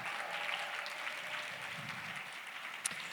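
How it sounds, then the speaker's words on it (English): An audience at the Corazón Awards ceremony claps steadily, a dense, even wash of applause that carries on throughout with no pause. "Everybody clap for yourselves."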